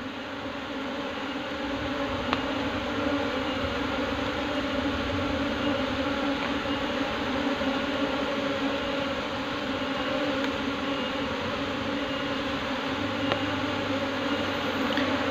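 Asian honey bees (Apis cerana) hum in a soft, continuous drone around their hive, faint and steady with no voices.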